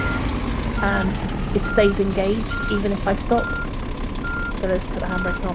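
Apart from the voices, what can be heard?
vehicle reversing warning beeps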